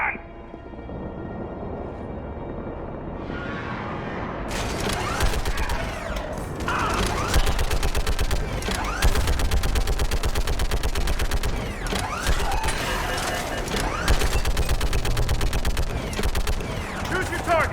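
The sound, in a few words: mounted gun firing at hostiles, video game Mass Effect 3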